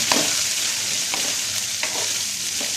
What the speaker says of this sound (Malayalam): നമ്മൾ കഴുകി ഉണക്കി വെച്ചിരിക്കുന്ന, അതായത് വെള്ളമെല്ലാം പോയ പയറിട്ട് വറുക്കാം